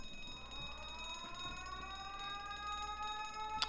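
An electronic alarm going off in The Great Ace Attorney video game, a faint, steady, slowly rising tonal wail with harmonic layers, running unbroken under a low hum, with no voices.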